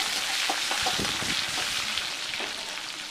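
Chopped tomatoes hit a pan of hot oil and spices in a vegetarian kitchen, giving a steady, close sizzle with soft stirring scrapes that eases slightly toward the end. No one speaks.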